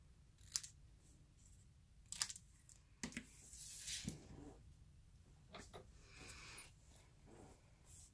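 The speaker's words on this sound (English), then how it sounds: "I'm going to come in here with my snips and just trim this off" Crafting snips trim a paper layer on an embossed greeting card, a few quiet, sharp snipping cuts scattered among faint handling rustles, close but soft.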